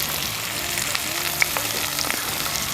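Mackerel pieces fry in a pan with curry leaves, giving a soft, steady sizzle with a single small pop partway through and no talking.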